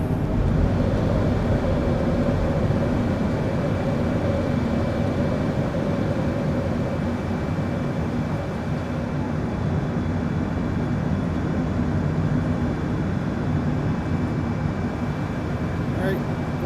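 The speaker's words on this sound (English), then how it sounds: "The airplane's very light, so this is an absolute rocket ship of a takeoff" A lightly loaded Lufthansa jumbo jet roars steadily through takeoff and climb in Microsoft Flight Simulator, a continuous loud engine drone with a faint tonal whine on top.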